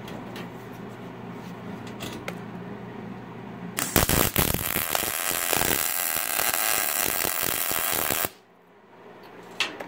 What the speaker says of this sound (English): now we got them both tacked on there fairly well